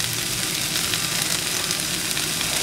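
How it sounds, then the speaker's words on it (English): Fresh basil leaves are dropped into a hot pan and sizzle loudly, a steady, dense hiss of frying that holds evenly throughout with no talking. "Basil. Fresh, of course. Drop them in."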